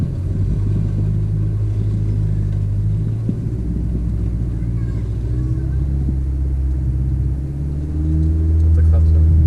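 A manual car pulls away on a hill after the handbrake is released, its engine rumbling steadily close by and then rising in revs near the end, with voices talking over it.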